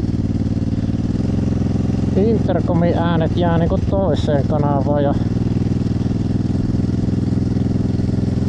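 Motorcycle engine recorded through a helmet microphone, a steady low droning hum that runs the whole time, with someone speaking Finnish over the middle part.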